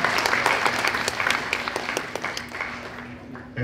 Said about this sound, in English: that's where we're clapping for